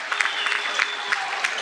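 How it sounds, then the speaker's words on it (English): Crowd at a boys high school basketball game applauding as a player leaves the court, a continuous wash of clapping with a few sharper bursts of cheering rising above it. "And Max Finlaw will check out to a huge round of applause."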